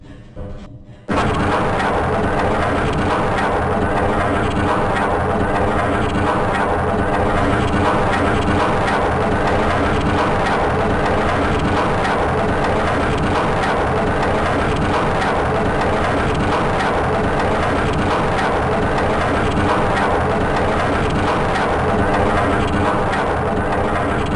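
A tram in Half-Life: Blue Shift rolls along with a loud, continuous mechanical rumble and hum that starts abruptly and holds steady for over twenty seconds.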